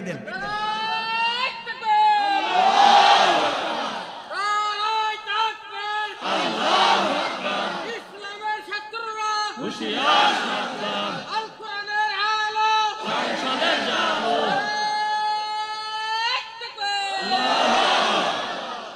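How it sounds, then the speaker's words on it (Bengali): A large crowd at a religious sermon roars a takbir chant in repeated call-and-response waves, each loud massed shout rising and falling, with a single leading voice between the surges. "জোরে আওয়াজ করে বলেন লিল্লাহে তাকবীর"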